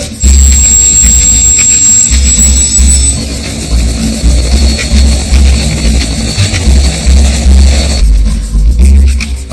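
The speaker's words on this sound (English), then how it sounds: "I'm getting to Uluru by helicopter" A loud, continuous rotor and engine roar from a helicopter flying over the Australian desert near Uluru, with rough low-end buffeting throughout.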